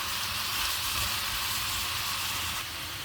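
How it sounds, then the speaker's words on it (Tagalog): Mushrooms sautéing in a pan, giving an even, close sizzle and hiss that runs throughout without any voices. "habang niluluto natin yung mushroom"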